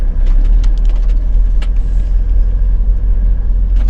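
A vehicle rolls along a packed dirt road through a forest, a heavy low rumble of tyres and engine filling the whole stretch with a few faint knocks and rattles, loud and continuous, no one speaking.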